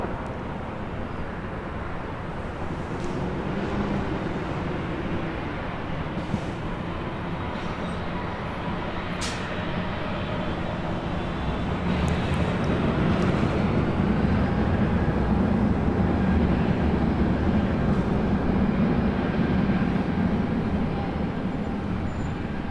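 Delta Airlines A319 airliner taxiing at LAX, a steady distant engine rumble and roar that grows slightly louder in the second half, with faint intermittent clicks and no talking.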